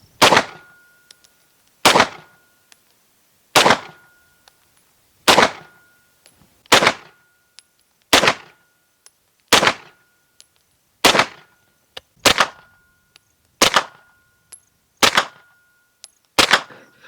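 Twelve suppressed 9mm pistol shots with 115 grain ammunition, loud sharp cracks fired alone at a steady pace of roughly one every one and a half seconds, each with a short decaying tail.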